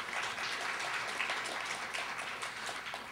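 An audience at a spoken word festival in Calgary gives steady, moderately quiet applause after a poem, an even wash of many hands clapping.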